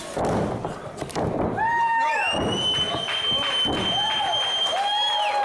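A wrestling crowd at a Strong Style match between two wrestlers roars and applauds in a sustained wash of cheering, with thuds from the ring, and a commentator's voice runs over it throughout.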